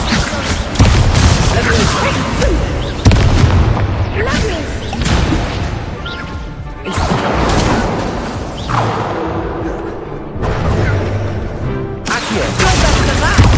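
Incendio fire spells cast during combat in Hogwarts Legacy, a series of loud booming bursts and whooshes with crashing impacts, recurring every few seconds, with someone talking over the action.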